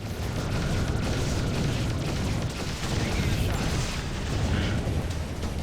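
A loud, sustained low roar and rumble of an explosion in an anomaly in the video game Freelancer: Crossfire, with a dense wash of noise that fades slightly toward the end.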